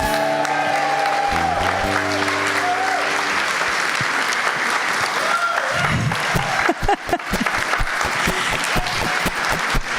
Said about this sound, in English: can we please have a round of applause for Nick, the MC?